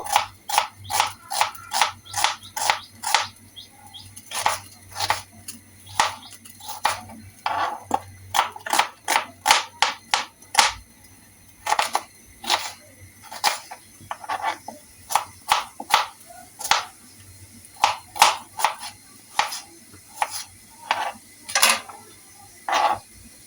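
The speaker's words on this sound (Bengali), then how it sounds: "এই পর্যায়ে আমি পেঁয়াজগুলো কেটে নিব।" A knife chops onions on a cutting board in sharp, separate strikes, quick bursts of several cuts broken by short pauses, close and clear.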